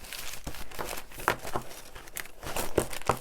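Paper book signatures torn from a gutted book being shuffled and mixed by hand, a run of close, irregular crinkling rustles and soft papery slaps with short pauses between; no talking.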